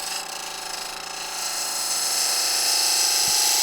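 Wood lathe spinning a burl wood bowl while a tool cuts a foot into its bottom, a loud steady whirring hiss that swells slightly as the cut deepens, no talking.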